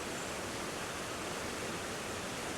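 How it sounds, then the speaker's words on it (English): The River Kent in flood beside a caravan site in Kendal, swollen after overnight rain, gives a steady, dense roar of rushing water, close and unbroken throughout. "just to show you how full the River Kent is at the moment"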